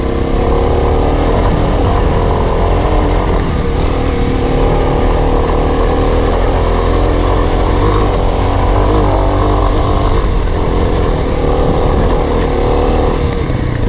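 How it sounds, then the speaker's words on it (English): A motorcycle engine roars loud and continuous at close range for the whole stretch, a dense, steady throttle sound with no pauses. "you crack the throttle wide open in first gear and drop the clutch."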